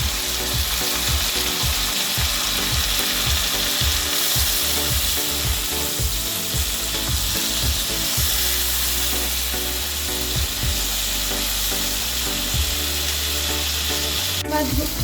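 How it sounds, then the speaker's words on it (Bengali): Prawns frying with soaked spices in a pan, a loud continuous sizzle and crackle under rhythmic scraping strokes of a spatula, busy in the first half and smoother afterward, with a sharp clack at the very end. "মাছটা প্রায় ভাজা হয়ে এসছে। এই পর্যায়ে আমি ভিজিয়ে রাখা সমস্ত মশলাগুলোকে এখানে অ্যাড করে নেব।"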